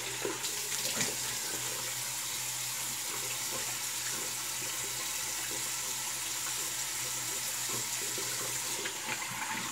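Water runs steadily from a bathroom tap as a razor is rinsed during a shave, a continuous close hiss of flow lasting the whole stretch with no talking.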